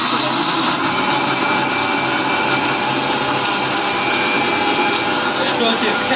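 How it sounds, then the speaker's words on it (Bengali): Mixer grinder blending coriander leaves, a loud, constant high-pitched whirring motor that runs unbroken, heard close up. "ওই যে ধনেপাতাগুলো মিক্সিং করে নিলাম"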